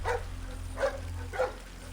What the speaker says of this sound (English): you're busy listening to the dog.